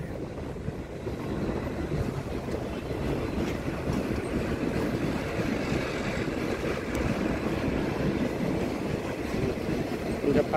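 A train rolls past with a steady, heavy rumble and rattling wheels, loud and continuous for the whole stretch.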